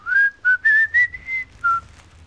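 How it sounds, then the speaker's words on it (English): A man whistles a short melody while out picking up litter on a work shift, with six clear, close notes in an uneven rhythm and a faint background hum underneath. "I have a whistle to myself"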